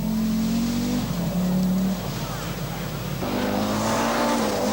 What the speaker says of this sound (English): Kotola with the Audi 80 Quattro, the four-wheel drive version